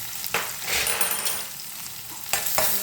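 Mushroom curry masala with onions, rock salt and turmeric being stirred in a pan, a steady sizzle of frying with scraping strokes of the spoon at the start and near the end, no talking.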